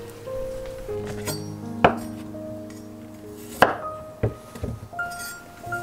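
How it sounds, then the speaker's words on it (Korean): A kitchen knife cutting chives, carrot and green and red chili peppers: a few sparse, crisp chops and light clinks against a board, set against soft sustained background tones. "우선 부추와 당근, 청양고추, 홍고추를 씻어주고 하나씩 잘라주면 됩니다"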